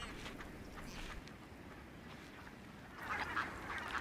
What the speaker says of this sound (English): Ducks, swans and coots huddle together in the last open water holes.